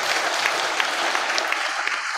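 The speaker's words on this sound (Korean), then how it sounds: "우리 박수로 한번 감사하겠습니다" Worshippers at a Korean church's 50th anniversary service break into thankful applause, with a dense wash of clapping that holds evenly from start to finish without talk.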